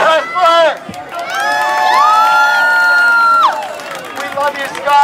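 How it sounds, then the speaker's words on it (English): Crowd at an outdoor San Francisco cleanup event cheering and shouting, with one long sustained whoop rising above a mix of excited voices, loud and close. "Can we please get a round of applause for Scott Presler?"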